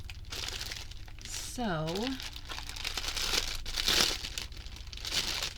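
Envelopes of several sizes being unpacked from plastic packaging, with close, crisp crinkling and a brief tearing rustle as a person talks over it.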